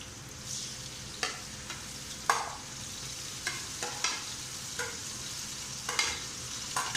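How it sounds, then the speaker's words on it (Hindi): Tomatoes and green chilies frying with softened onions in a pan for a chicken curry, a steady low sizzle broken by repeated sharp scrapes and clacks of a spoon stirring at irregular intervals, close and alone. "अब इसमें हम टमाटर और हरी मिर्च डालेंगे।"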